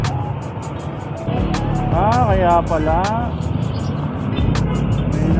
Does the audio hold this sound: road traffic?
yes